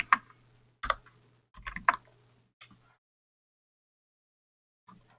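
Keys on a computer keyboard clack in a few quick, sparse bursts, then a long pause before one last keystroke, close and fairly quiet.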